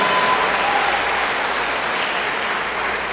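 A congregation applauds in a Baptist church during a livestreamed service, with steady, continuous clapping that holds evenly and loud throughout, no talking over it.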